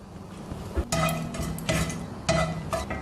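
Whole spices, cinnamon and cloves, dropped into hot oil for tempering in a kadappa gravy, with stirring and clinks of a spoon against the pan over a low sizzle; short clattering bursts repeat several times, close up, with no talk.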